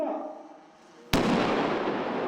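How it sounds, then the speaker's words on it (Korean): An enemy truck blows up on an anti-tank minefield, a sudden sharp explosion midway followed by a loud sustained roaring rumble and debris wash, preceded by quieter low background noise. "대전차 지뢰지대를 통과한 적 트럭은 그대로 폭발해 산산조각납니다"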